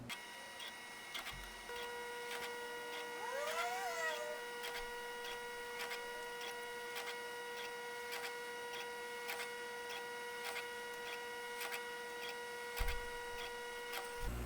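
A K40 laser engraver marks craft sticks in steady rhythmic passes, a faint ticking and whirring of the moving head repeating evenly over a low hum, with a brief higher chirp partway through.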